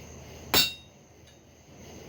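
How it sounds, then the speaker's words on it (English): A hammer strikes a chisel once, a sharp, loud metallic hit followed by quiet room tone, while working a copper and steel spatula at the forge. "Make sure the tip of the chisel is engaged."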